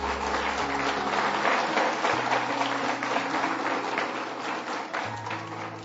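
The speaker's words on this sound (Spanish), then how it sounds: "Dale un aplauso a Dios." A church congregation applauds during a Spanish-language sermon, giving a sustained wash of clapping over a low organ or keyboard chord that shifts underneath.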